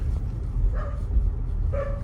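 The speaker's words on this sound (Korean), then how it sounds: "짖지 말아줘." A large farm dog on a remote mountain road barks twice, short low woofs spaced about a second apart, heard at a moderate distance over a low vehicle rumble.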